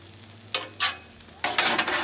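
Pad thai with chicken, vegetables and peanut sauce sizzles on a Blackstone griddle while it is tossed and mixed, with a few quick spatula scrapes over a soft, steady frying hiss.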